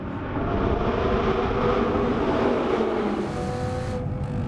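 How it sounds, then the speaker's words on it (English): A V10 Audi R8 engine roars steadily at high revs, loud and close, its pitch shifting slightly as the throttle changes, with no talking. "the engine it revs so incredibly freely"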